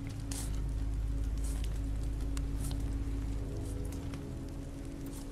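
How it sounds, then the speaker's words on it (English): Steady rain falling on a winter day, just before it turns to sleet, a dense continuous hiss with scattered sharper drops and a low rumble underneath, constant and fairly loud with no voices. "This rain will turn to sleet."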